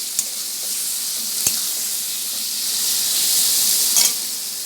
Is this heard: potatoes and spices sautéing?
yes